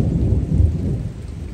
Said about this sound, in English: Getting some thunder.